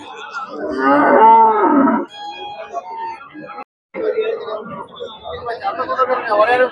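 Cattle at a busy cow market in Karunkalpalayam: one loud, drawn-out moo up close, then quieter lowing under steady crowd chatter and people talking.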